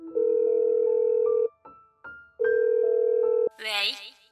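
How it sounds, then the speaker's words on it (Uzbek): A telephone dial tone hums in two long steady stretches with short clicks between them while a call is placed, loud and close, then a brief burst of speech follows. "uningga telefon urdim"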